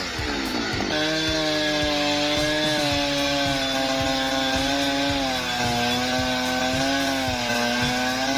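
A chainsaw cuts through trees, its engine roaring loud and close in a sustained high whine that bogs slightly and rises again as the chain bites, with no voices.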